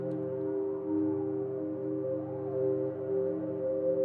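Sustained ambient synthesizer pad with stacked steady harmonics and a slow, octave-lowered drone, holding at an even level with no talking.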